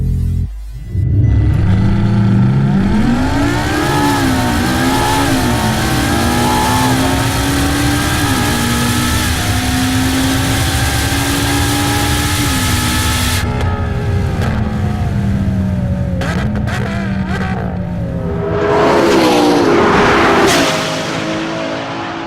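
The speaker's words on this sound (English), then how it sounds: "here's what a three-way drag race would look like between the LaFerrari P1 and" LaFerrari, McLaren P1 and Porsche 918 supercars in a three-way drag race, loud high-revving engines climbing through gears with rising whine and shift dips, tapering then a second surge of revving near the end; no talk.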